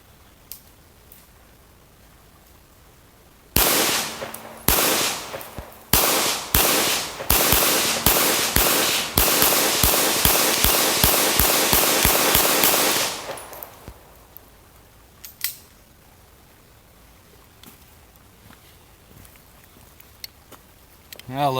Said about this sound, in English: We're going to shoot that piece of aluminum down there,